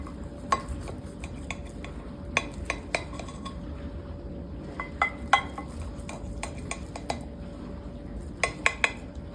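Cutlery clinks and scrapes against a dish while a vegan casserole is cut, producing light, irregular metallic taps over a quiet background.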